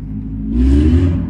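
A John Deere GX345 lawn tractor engine runs close by, a steady low rumble that swells louder partway through as the tractor is moved, with a whirring rise in pitch.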